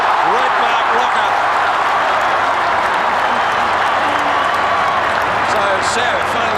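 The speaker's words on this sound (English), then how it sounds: "So Sav finally gives the Collingwood supporters something to cheer about" Collingwood supporters at the MCG roar and applaud a big mark during a 1994 AFL match against Carlton, a dense, steady crowd noise that fills the whole stretch at high level.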